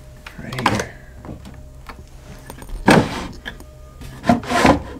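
An old wooden dresser drawer in an abandoned mansion is opened, producing a few short knocks and scraping slides, with louder rubbing bursts near the middle and end and occasional voice sounds.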